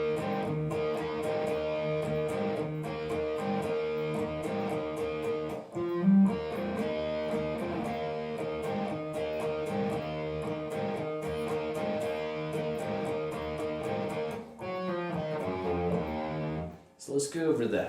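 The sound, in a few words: electric guitar playing verse of a song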